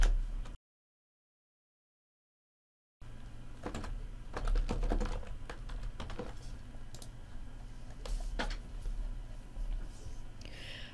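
Keys clatter on a computer keyboard while text is entered in SketchUp 2018 LayOut, with steady close tapping that follows a brief silent gap and has no talking.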